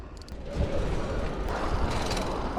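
An old, cheap one-dollar bicycle ridden at the start of a 100 km race, its gears and ratchet clicking and rattling continuously under rushing wind and road noise, close and steady.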